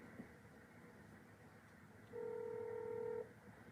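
A single telephone keypad tone sounds for about a second while a call is placed, faint against a quiet background hum.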